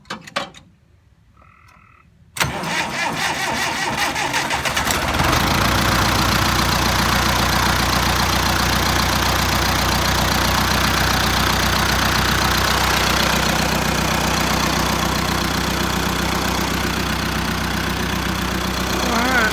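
A quiet stretch, then an International 574 tractor engine suddenly cranks and catches at about two and a half seconds, settling into a loud, steady, rumbling idle that runs to the end.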